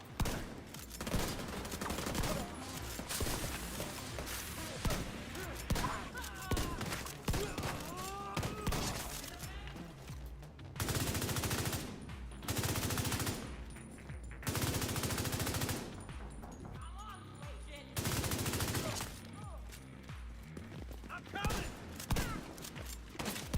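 Bursts of automatic gunfire from The Division 2 rattle loudly in long sustained volleys, separated by short pauses and mixed with other game effects and occasional voices.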